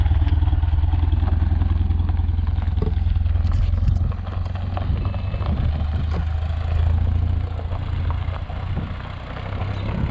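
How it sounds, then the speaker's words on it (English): A 1972 Opel GT engine, revived after decades sitting in a junkyard, runs steadily with a low exhaust rumble and some clatter; the level dips slightly midway and stays moderately quiet throughout. "Exhaust actually ain't too bad sounding."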